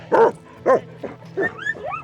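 Sled dog giving several short yips and whimpers in quick succession, close by, the cries rising and falling in pitch with brief pauses between them.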